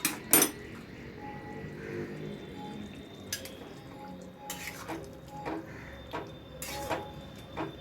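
Keema matar with potatoes being stirred in a pot, giving scattered metallic clinks and scrapes of a spoon against the pot at a moderate distance, with a few sharper knocks among quieter kitchen noise.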